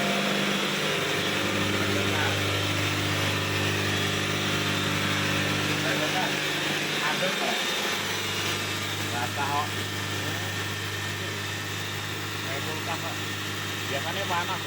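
A Daihatsu Feroza engine runs steadily with a low drone, briefly dipping then revving back up, while a person speaks over the noise.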